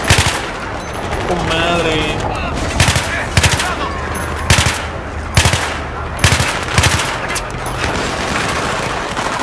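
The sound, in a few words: gunfire in the video game Battlefield 3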